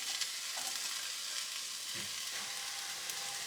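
Chopped celery, peppers and carrots are stirred into onions frying in a pan for a vegan bolognese, giving a soft, steady sizzle with faint scraping stirs, fairly quiet and with no talking.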